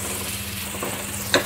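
Onions for kothu parotta sizzling steadily in a pan on a low flame, with soft stirring scrapes and a sharp utensil clink near the end, close and fairly quiet.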